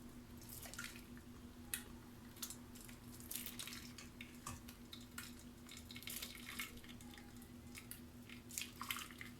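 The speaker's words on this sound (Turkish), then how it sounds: "İsterseniz bu şekilde süzersiniz." Boiled plum juice being strained gives off a faint, soft trickle and an irregular patter of drips and small wet splashes, close by and without any talking.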